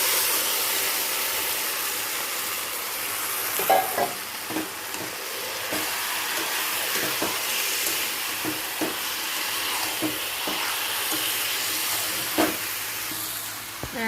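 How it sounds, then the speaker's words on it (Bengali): Meat marinated in ginger, garlic and chili paste, salt, turmeric, cumin and coriander powder fries with onions in a pan. A loud, constant hiss carries on throughout, broken by occasional stirring knocks and scrapes, with no voices. "পেঁয়াজটা একটু ভাজা হয়ে গেছে, এবার দিয়ে দিতে আসি মাংস।"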